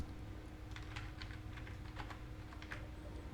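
Fast, light key taps on a computer keyboard while entering a WooCommerce shortcode, a quick run of soft clicks over a low steady room hum, fairly faint.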